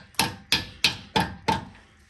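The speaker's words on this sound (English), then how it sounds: "Start hammering this out." A hammer strikes a socket used as a drift to drive an axle shaft out of the hub on a GX470. It lands five sharp metallic blows at a steady rhythm, each ringing briefly before the next, close and loud.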